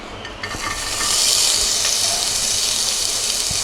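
Chopped onion hits hot oil with already-fried cumin in a pan, setting off a loud, close sizzle that swells after a second into a steady hissing fry, with a few stirring knocks and no speech.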